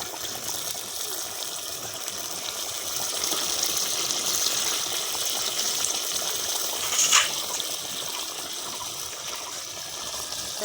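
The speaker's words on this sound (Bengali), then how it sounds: "তাই পানি আর একটু বাড়িয়ে দিলাম আমি।" Water gushes and trickles steadily into a pot of country chicken curry cooking with kasundi and whole onions, a continuous pouring wash with one brief splash near the end.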